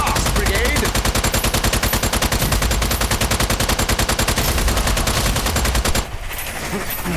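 Rapid automatic gunfire from a weapon in the Strange Brigade shooter game, a dense, loud, steady burst of shots lasting about six seconds, then cutting off abruptly.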